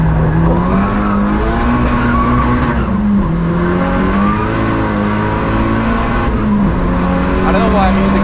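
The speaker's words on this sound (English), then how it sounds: "We're wheel spinning, understeering in the corner, and a very fast corner." A Seat Leon Cupra on the Nürburgring, heard from inside, spins its wheels while understeering through a very fast corner: a loud, steady engine drone with tire squeal wavering above it, and a voice talks over it throughout.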